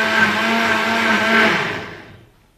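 A homemade electric blender churns butter from milk with hot water added, a loud steady whirring motor that holds for about a second and a half, then winds down and fades out; no speech.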